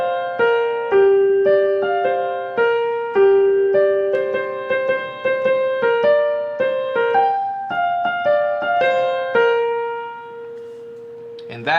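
Solo piano plays the chorus melody of a song, a clear single-note line with steady, evenly spaced notes ringing out over soft sustained tones, close and moderately loud with no voices.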